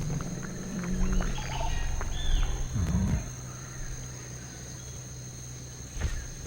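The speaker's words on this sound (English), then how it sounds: "We did get to hear the angry roar." A distant, rumbling dinosaur roar from Jurassic Park: Operation Genesis rises and falls over a steady hum of insects and birds in the game's ambient background.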